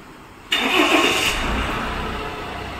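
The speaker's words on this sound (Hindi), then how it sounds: "तो अब हम गाड़ी को स्टार्ट करते हैं" A Tata Safari engine cranks and catches after a half-second of quiet, then settles into a steady, fairly loud idle close by; the engine has an alternator noise problem.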